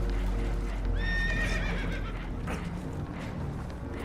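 Spooked horses in Red Dead Redemption 2 let out a loud, shrill whinny near the middle, over a low rumble of water and hoof clatter, with no one talking.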